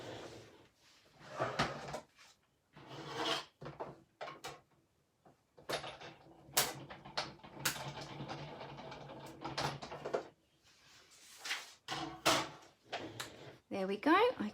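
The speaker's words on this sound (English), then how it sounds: "let me just run that through my die cutting machine" A papercraft die cutting machine runs with a series of mechanical clunks, rattles and whirring bursts in an uneven rhythm, close and moderately loud, with short pauses between passes.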